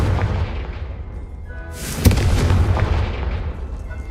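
A Confringo blasting spell explodes in a Harry Potter video game, a sudden loud boom with a bright crackling burst that fades slowly into a rumbling tail over steady game ambience.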